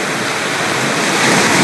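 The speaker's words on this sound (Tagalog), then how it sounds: "Naririnig nyo mga idol yung hampas ng alon" Ocean waves breaking on a calm seashore, a loud, steady, continuous wash of surf with no pauses.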